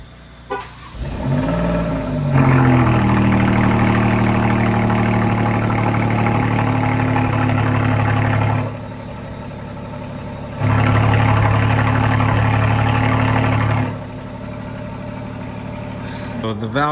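An Alfa Romeo QV engine idles steadily, its exhaust tone stepping up louder and fuller as the exhaust valve opens, dropping back when it closes, then swelling again before settling quieter.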